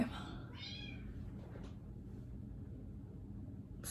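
A domestic house cat meows faintly near the start, a short drawn-out call over a quiet indoor background hum, followed by low ambient noise.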